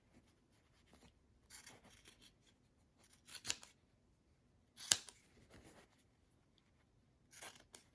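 Scissors snip away excess fabric bulk near a mask seam in several short, crisp cuts spaced out over quiet pauses, close up with no speech.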